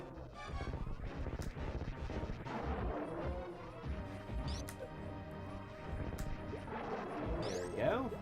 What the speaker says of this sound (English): There's the charge shot doing its duty.